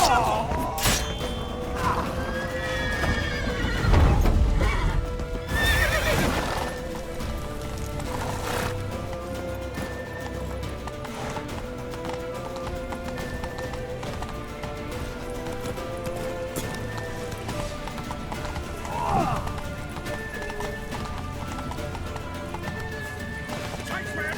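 Hooves clatter in a quick galloping rhythm amid The Witcher 3: Wild Hunt game action, with people shouting over it and a brief whinny.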